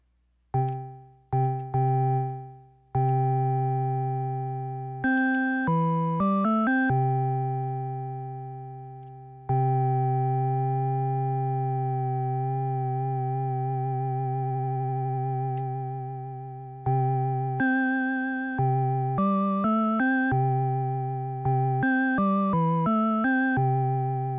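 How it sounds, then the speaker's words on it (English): Synthesizer notes with a soft, hollow, triangle-like timbre, some held long and others played as quick runs, each fading after its attack. "It just sounds like a triangle wave, honestly."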